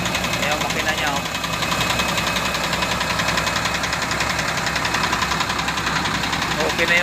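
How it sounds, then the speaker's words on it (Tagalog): A repaired bus engine idles nearby with a steady, rough mechanical rumble and light knocking vibration, continuous and loud for several seconds. "Ayan yung makina niya oh."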